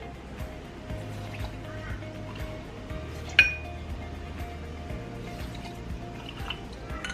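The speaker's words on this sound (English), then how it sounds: "So I'm just adding in around 1/2 cup of soy milk to each one." Soy milk poured into glass jars with chia seeds gives a soft, close liquid trickle, with a single bright clink of glass partway through and little talk.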